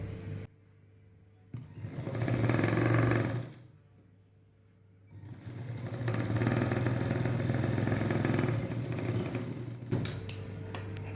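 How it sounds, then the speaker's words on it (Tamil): A domestic sewing machine runs in two bursts, a short run then a longer steady whirring one, stitching three layers of blouse fabric together with a brief pause between runs. "இப்போ இந்த மூணு துணியும் விலகாமல் இருக்கிறதுக்கு மேலே நீங்கள் சரியாக வச்சு ஒரு தையல் போட்டுருங்க"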